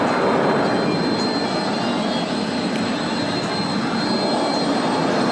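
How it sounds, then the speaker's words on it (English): A Eurofighter Typhoon jet roars overhead at an air show during a spiral dive, its engine noise a constant, loud, broadband rumble and whoosh throughout. "Spiral diving for the Eurofighter, now going back toward the center of the display"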